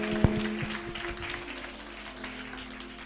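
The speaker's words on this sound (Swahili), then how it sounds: "Pigia Yesu makofi" Church congregation clapping for Jesus during a lively service, a broad wash of hands applauding with one sharp hit near the start, continuing steadily at moderate volume amid the room's murmur.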